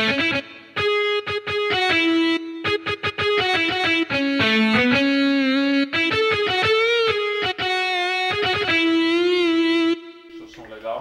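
Sampled organ-like keyboard tones in a southern Brazilian bailão style, run through a distortion effect, play a busy melody of bright, buzzy sustained and staccato notes that fill the whole clip loudly before ending in a short tail.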